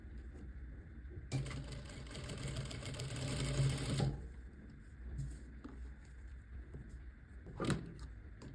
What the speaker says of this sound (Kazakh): жеңімізді былай тартып отырып тура жаңағы тігістің үстінен тағы бір рет тігіп шығамыз